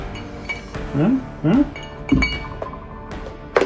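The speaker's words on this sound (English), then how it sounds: "I got an ice ball mold here, so we'll add that to the glass gently" An ice ball from a mold is set gently into a cocktail glass, giving a few bright, close clinks of ice against glass spaced over several seconds with quiet pauses between.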